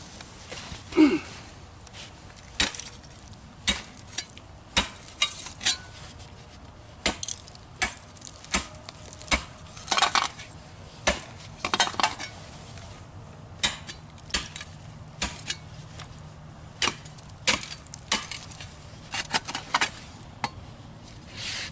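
A Camillus blade chops into frozen ice outdoors in sharp, irregular strikes spaced a second or two apart, with quiet handling noises between blows.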